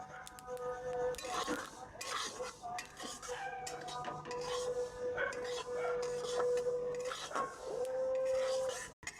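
Hulled sesame seeds are roasted in a pan, heard as repeated scraping and clattering of a utensil against the pan, with a steady tone in the background.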